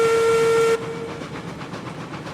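A steam locomotive whistle in the game Railroads Online blows loud and steady for under a second, then cuts off and leaves a softer rhythmic chuffing and hiss.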